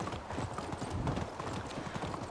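A horse in the video game Medieval Dynasty gallops in winter, its hooves beating a quick, steady clip-clop rhythm throughout, moderately close and fairly soft.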